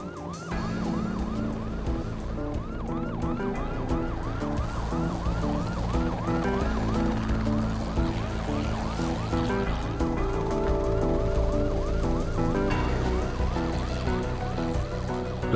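Police sirens wail continuously in repeating rising and falling sweeps over a rumbling engine, loud and close, with no talking.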